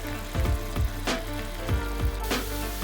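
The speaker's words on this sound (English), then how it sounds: "Fry them all together and wait for at least 1 minute before we stir it." Eggs with black pepper and salt fry in a pan with a loud, steady sizzle close up, broken by a few soft taps and bubbling pops.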